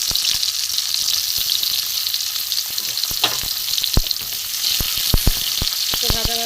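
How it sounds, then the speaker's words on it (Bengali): Sliced onion and tomato sizzling loudly in hot oil in a pan for an egg and spinach dish, a dense continuous frying hiss up close with sharp spatula clicks and stirring knocks near the end. "তেল গরম হয়ে গেছে এখানে পেঁয়াজ দিয়ে দেবো টমেটো দিয়ে দেবো"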